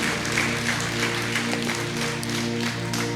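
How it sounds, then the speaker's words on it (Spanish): A church congregation applauds together in sustained, dense clapping that holds steady throughout, over a low hum of sound from the hall. "Da un aplauso al Señor"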